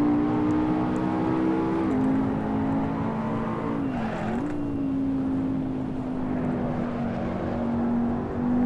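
A racing car engine in Assetto Corsa holds a steady high tone that dips briefly then climbs again as the throttle eases back on, continuous and prominent with no talk.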